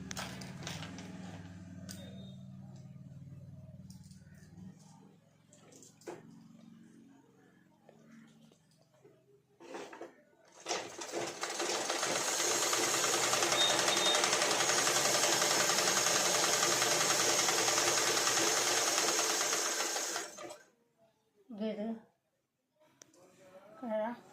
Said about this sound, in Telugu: బాబిన్ల దారం అయిపోయింది, దారం ఎక్కించుకుంటున్నాను